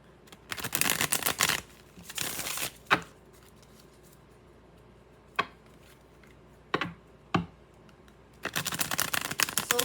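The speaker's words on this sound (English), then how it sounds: "let me give this a 3-card shuffle and then a cut" Tarot cards being shuffled and cut, heard as several bursts of dense riffling with short sharp taps and snaps between them, close and fairly quiet with no talk.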